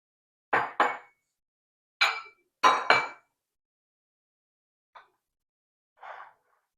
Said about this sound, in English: Let me just get my dishes out of the way here.